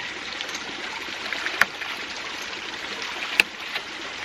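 Ram pump valve clicking twice as water fills the delivery line after winter shutdown, two sharp distinct clicks about two seconds apart over a steady rushing flow of water.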